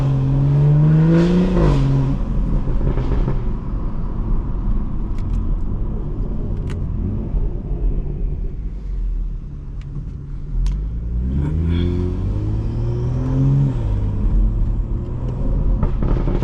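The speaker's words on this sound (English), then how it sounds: "So enjoy the sound of the car." A BMW 440i engine revs loudly while driving, rising and falling through gear changes with a steady rumble throughout, heard alone without talk.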